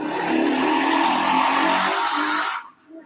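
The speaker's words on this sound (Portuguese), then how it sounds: "Passou uma moto barulhenta bem na hora" Noisy motorcycle roaring past close by, a loud broad engine rush that holds for about two and a half seconds and then drops away abruptly, leaving near silence.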